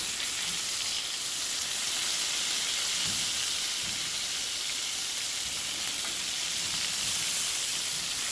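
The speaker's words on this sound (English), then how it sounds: "the patties are frying up really nice" Sausage patties fry in a pan with a dense, even sizzle and hiss that runs unbroken throughout, punctuated by a few soft pops and spatters.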